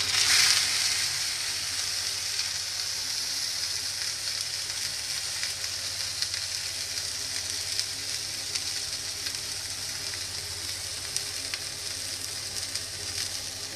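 Marinated tuna steaks frying in about two tablespoons of olive oil in a pan, giving a steady, close, continuous sizzle with a louder burst at the start and no voices.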